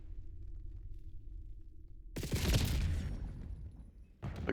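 In a video game, a pizza launcher weapon fires like a grenade, setting off a loud, close burst of explosive rumble that follows a low hum. A second sharp blast comes near the end.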